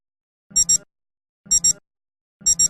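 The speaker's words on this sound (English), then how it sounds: "With the alarm turned on, the alarm tone will sound for 15 seconds at the time set." A Citizen Eco-Drive titanium perpetual chronograph atomic-timekeeping men's watch sounds its alarm: three loud, close double-beep chirps, evenly spaced about a second apart, with silence in between.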